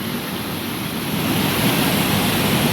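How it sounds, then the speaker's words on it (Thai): A steady, dense rush of falling water, even and continuous, like a waterfall heard fairly close with no other sounds. "หาเสียงเสียงน้ำตกอะ"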